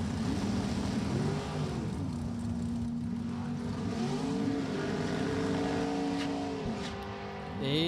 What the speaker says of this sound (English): Page Racing Engines, 532 cubic inch Chevrolet on the left-hand side, and David Long, S&W Race Cars, Pennsylvania